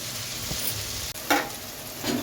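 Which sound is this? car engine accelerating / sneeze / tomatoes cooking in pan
tomatoes cooking in pan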